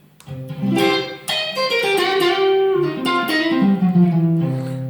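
Telecaster guitar played through an Echolette NG 51 tube tape echo preamp into a Black Cat 30R amp, sounding as a run of sustained, ringing notes that change pitch steadily, close and fairly loud with no talking.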